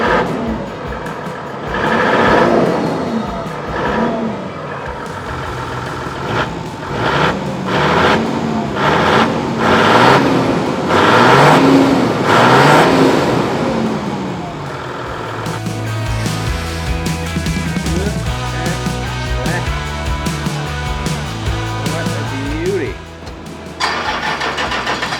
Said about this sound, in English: Oh, that's got a nice little grumble.